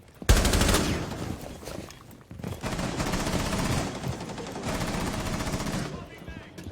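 Rapid automatic gunfire in an online shooter match, sustained bursts of machine-gun fire running for several seconds with a brief pause, loud and close, with a voice talking over it.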